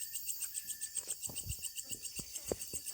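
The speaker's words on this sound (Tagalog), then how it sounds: "Palaka yun." On a mountain farm at night, a rapid, regular pulsing call repeats steadily from fairly close, over a faint background of scattered clicks and rustles.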